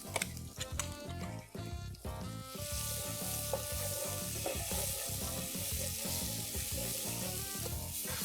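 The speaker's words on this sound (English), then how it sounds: "Saute the onion paste for 2 to 3 minutes." Onion paste and chopped green chilies hit hot ghee for a mushroom dish: a few sharp scrapes and clatters at first, then a loud, dense sizzle that holds steady throughout.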